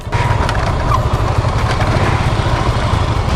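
Motorcycle engine running close and loud at night during a stormy ride, a continuous rough droning rumble with no pauses.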